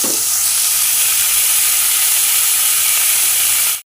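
Cauliflower florets fry in hot oil for a Bengali potato-cauliflower dish, giving a loud, steady, close sizzle and hiss that runs unbroken until it cuts off abruptly.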